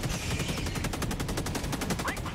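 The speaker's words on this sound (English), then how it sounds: "I just kinda shoot it with the infinite ammo, like for movie effect." Rapid automatic gunfire in the video game Helldivers 2, a steady fast stream of shots at even rhythm, loud and dense throughout with no pauses.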